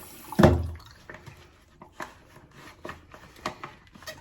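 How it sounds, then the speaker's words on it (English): Water is poured into the reservoir container of a portable water filter: an initial splash, then scattered, fainter drips and trickles follow. "So to clean my filter, I fill the water container reservoir up with some water."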